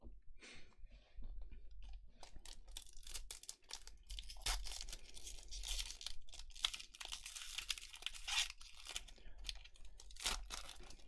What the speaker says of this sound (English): I always feel like I'm bending the cards in half when I open these packs